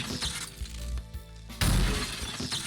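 Glass-like shattering crash from a video game as a control panel is smashed to pieces, a loud sudden burst at about a second and a half that rings on over dense game sound before and after.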